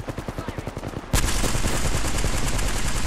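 Gunfire in Apex Legends: a rapid string of evenly spaced automatic shots, then a burst that becomes a dense, continuous roar of fire, loud and close.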